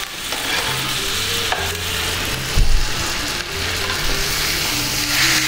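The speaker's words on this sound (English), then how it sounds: "And now all I'm doing is I'm basting the top with my butter and obviously my garlic flavoring." Butter foams and sizzles in a hot pan while meat is basted with garlic, making a steady close crackle with spoon scrapes and a brief louder clunk partway through, with no talking.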